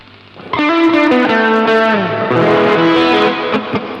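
Electric guitar played through an effects unit with distortion and a spacious hall-style reverb, a strummed chord ringing out loudly and sustaining with a washed, blooming tail, followed by further sustained notes.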